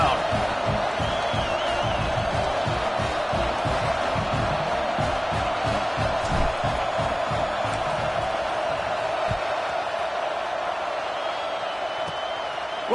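Stadium crowd in the video game College Football 26, a dense, steady roar of many voices with scattered whoops and cheers, while a commentator talks over it throughout.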